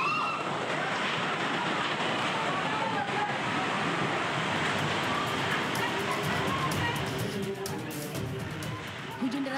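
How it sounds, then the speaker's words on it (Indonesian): Heavy rain and strong storm wind batter Ngeraho village in Bojonegoro, East Java, a dense, steady roar of rushing wind and pouring rain that stays loud and constant throughout. "Hujan deras dan angin kencang menerjang Desa Ngeraho"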